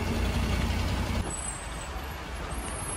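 Macau city bus number 25 rumbles along with a heavy low engine drone that drops off abruptly partway through into a quieter, steady hum.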